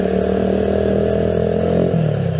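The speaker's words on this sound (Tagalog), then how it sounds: "At kung mapapansin ninyo, maingay ang motor ko." A noisy Keeway CR152 motorcycle engine runs steadily while riding, a loud, close droning hum with a slight clattery edge and a small drop in pitch near the end, with no talking.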